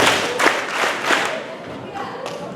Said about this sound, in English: So give him a Raven clap on 3.